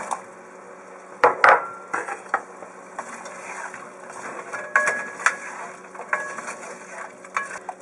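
Chopped celery and carrots dropping into a pot of chicken noodle soup, a few sharp clatters and soft thumps against the metal pot, followed by lighter scattered knocks and rustles over a steady kitchen hum.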